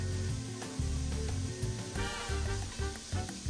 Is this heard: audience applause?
no